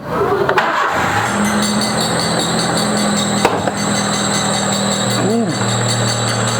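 A car engine cranks and catches, then settles into a steady running hum with a brief rising rev near the end, while people talk over it.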